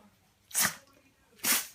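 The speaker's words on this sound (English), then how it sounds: "The sneezing pug." Two sharp, explosive sneezes from a pug, close by, about a second apart, with quiet pauses around them.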